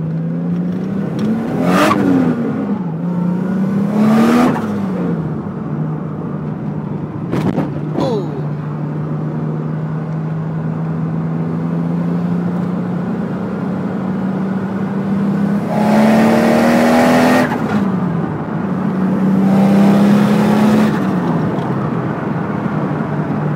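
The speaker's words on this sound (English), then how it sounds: "Roll my window down, see if you can hear the screamer pipe." A turbocharged RB30DET engine in a Nissan S14 revs up repeatedly at 14 psi boost, rising whines and sharp bursts of screamer-pipe whoosh, loud and close, with a sustained drone between revs.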